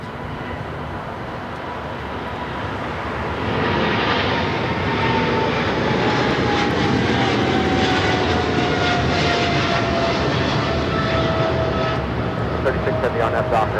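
A DHL cargo jet operated by Polar Air Cargo takes off at LAX, its engines swelling to a loud sustained roar with a whining tone, heard from nearby and steady to the end.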